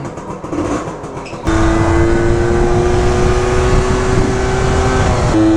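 Honda Cub EZ90 mini bike gets ridden close by, its small engine starting to drone loudly and steadily with a sustained buzzing tone after a short quieter start.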